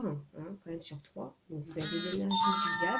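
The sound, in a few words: mobile phone notification sound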